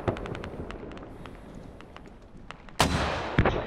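Mortar rounds landing in a shooter video game, a string of distant dull thuds and cracks across the first half, then a much louder, close blast with rumbling debris and a final sharp crack.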